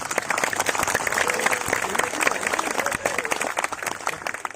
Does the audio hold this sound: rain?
no